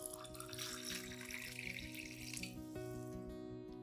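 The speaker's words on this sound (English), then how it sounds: "Pour 500 milliliters of hot water into the banana and coffee mixture." Hot water, about 500 millilitres, pours steadily into a cup holding a banana and coffee mixture, a continuous close splashing stream with a clinking note near the end.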